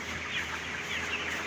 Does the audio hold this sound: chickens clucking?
yes